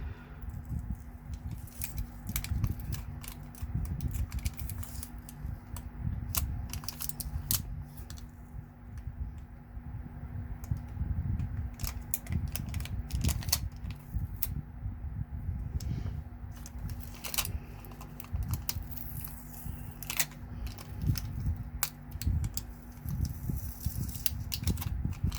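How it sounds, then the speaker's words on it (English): Cured UV resin holly-leaf earrings are peeled off sticky tape, giving a steady run of small crackling ticks and pops close to the mic. The crackles continue throughout over a low background hum. "we can remove them from the tape"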